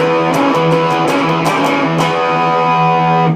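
A distorted electric guitar plays a chugging blues rock boogie riff on the E, repeated palm-muted notes in a steady shuffling rhythm.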